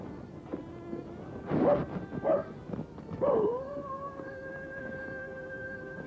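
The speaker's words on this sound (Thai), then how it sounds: "เสียงหมาหอน น่ะ" A dog howls in a long, wavering, drawn-out tone that rises and then holds steady, with a few shorter yips and whines before it, heard at a moderate distance with no talking.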